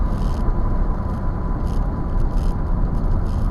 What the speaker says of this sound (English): right now we're driving with the windows down in my truck on a gravel road, so it's pretty loud